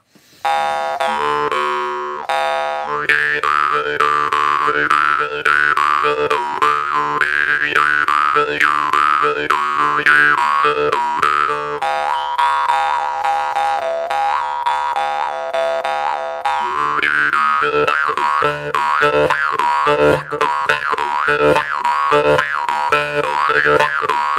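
A handmade jaw harp, once recurved and since straightened, is played alone: loud, continuous twanging boings with shifting vowel-like overtones and a quick rhythmic pulse throughout.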